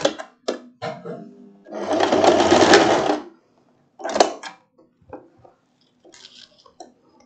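A sewing machine stitches the casing tunnel of a floral wrap dress in one short, close burst of about a second, surrounded by small handling clicks and taps.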